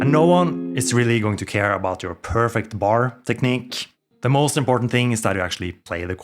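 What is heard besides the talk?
No distinct noise like a dog, phone or traffic.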